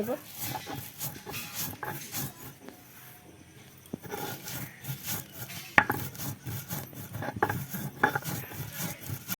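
Spices for a sweet-sour mango pickle are ground into a coarse paste with a repeated rough rubbing and rasping, steady and close, under someone talking.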